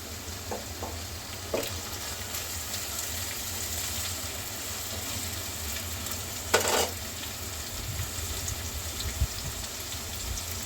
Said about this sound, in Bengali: এবার ভালোভাবে কষিয়ে নিব। দিয়ে দিচ্ছি একটা টমেটো কুচি।